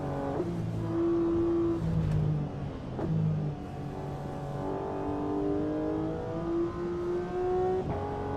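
A race car engine in the Assetto Corsa EVO racing sim, heard through a turn: a loud, steady engine note that drops and climbs in pitch as the driver lifts off, shifts and accelerates again.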